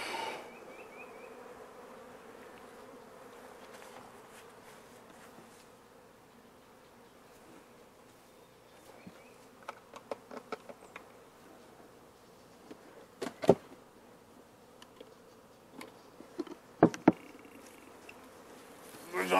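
Bees buzz around their hive in a steady, dense hum that stays close, with scattered sharper knocks and clicks breaking through toward the end.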